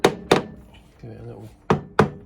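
A screwdriver taps the cover of a 1963 Lambretta Series 3 Li 125 scooter, four sharp knocks in two pairs with a brief metallic scrape between them, close and clear.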